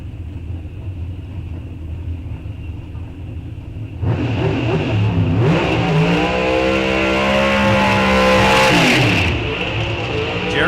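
A drag racing car does a burnout at an NHRA National Open drag strip. A low idling rumble bursts into a loud, sustained roar with rising revs, holds, then drops back toward a lower rumble.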